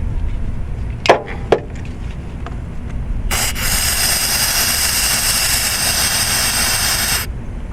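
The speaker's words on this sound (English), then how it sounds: "Brake clean usually works really well, and that's what I'm gonna do right here." Brake cleaner hisses from an aerosol can in one sustained spray lasting about four seconds, aimed at an engine part of a 1996 Ford Thunderbird, after two sharp knocks.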